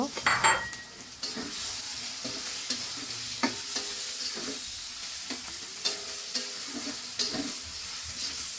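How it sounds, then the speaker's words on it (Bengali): Prawns fry with onions in a pan, giving a continuous, moderately quiet sizzle. Frequent close stirring scrapes and light metallic clinks of a spoon on the pan punctuate it throughout, and no one speaks. "চিংড়ি মাছটা দিয়ে আবারও পেঁয়াজের সঙ্গে ভেজে নিব"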